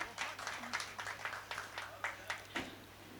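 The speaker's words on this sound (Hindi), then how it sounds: "अब मैं आपके लिए तालियां बजाती हूँ" Slow clapping at an Urdu mushaira poetry gathering: a faint, evenly spaced series of about ten single claps, as from one person near the microphone, with soft room noise beneath.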